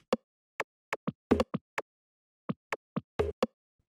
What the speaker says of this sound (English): this is just holding all that little, like, clicky, kind of zappy percussion